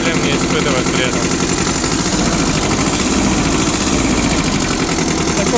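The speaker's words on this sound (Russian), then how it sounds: "Такой вот тракторок, дополненный Mitsubishi MT-13 компании Progress Auto." A Mitsubishi MT13 four-wheel-drive mini tractor from Progress-Avto runs steadily at idle, a constant close engine drone with vibration throughout.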